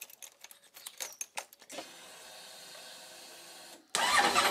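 A few soft clicks and taps, then a motorcycle engine cranks with a steady whir before catching and roaring to life loudly at the end.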